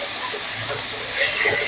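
Drumstick flowers go into a hot, spiced pan for sajne phool chorchori, giving off a close, even, steamy hiss that sizzles throughout.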